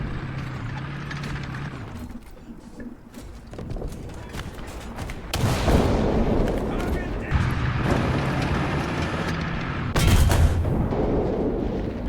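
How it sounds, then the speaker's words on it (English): Tank cannon shots and gunfire in War Thunder, several loud booming blasts that cut over a rumbling engine drone, with someone talking through much of it. "this tank certainly can bounce a lot of shots"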